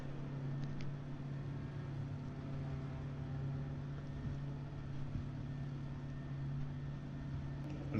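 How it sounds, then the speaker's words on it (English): A car engine revving in a racing video game, a steady droning engine hum heard faint and distant throughout, with no voices. "car in the distance, revving to the moon"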